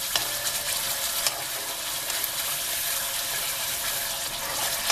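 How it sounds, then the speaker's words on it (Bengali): Spice paste sizzles loudly in hot oil for a katla fish curry, a dense, continuous frying hiss with some stirring, close up and with no speech. "মশলাটা যখন তেল ছেড়ে দিবে তখন দিয়ে দেবো টমেটো ও লঙ্কা আর জিরে বাটা"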